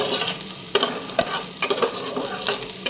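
Onions sizzle in a pan for chicken aloo curry while a spoon stirs them, giving a steady close frying hiss broken by several sharp scraping clatters.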